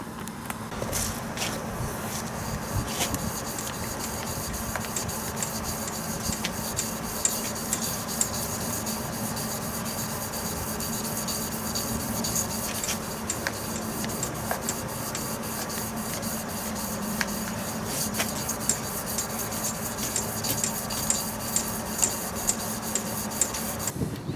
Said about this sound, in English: we're gonna use some 1000 grit sandpaper with the shoelace and some penetrating oil, and we're just gonna go ahead and polish this out